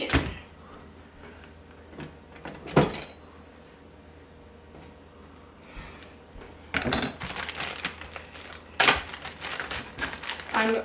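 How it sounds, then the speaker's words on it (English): A red onion is cut in a kitchen while pasta cooks for a pasta salad, giving a few scattered knife taps on a board early on and then a denser run of crisp chops near the end. "I am going to cut my onion."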